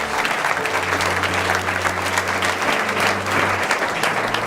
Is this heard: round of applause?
yes